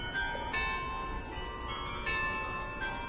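Church bells ring in Gdansk old town, a steady sustained peal with repeated strikes swelling throughout, heard outdoors with no talking.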